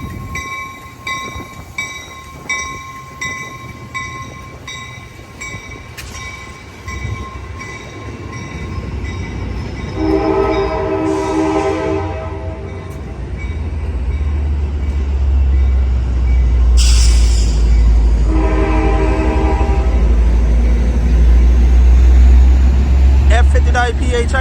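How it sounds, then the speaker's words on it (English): Amtrak Capital Corridor train led by an F59PHI locomotive departing Oakland Jack London Square station, with two loud chordal horn blasts over a swelling diesel rumble and rolling wheels. "the best horn on that F59 PHI"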